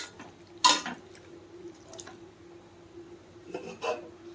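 Spice masala is mixed by hand in a bowl for patrode. One sharp rasping scrape comes first, then softer rubbing and a couple of faint scrapes, quiet overall.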